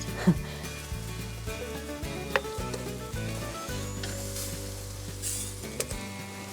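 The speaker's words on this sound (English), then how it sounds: "Sizzling steaks." Meat sizzles steadily in a hot pan, a constant crackling hiss with a low hum behind it and a few small clinks.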